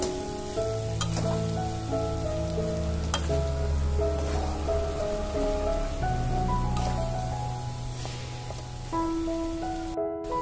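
Minced beef fries in a pan with a steady, dense sizzle like light rain, while occasional scrapes and taps of a utensil stir it; close and continuous, with no voices.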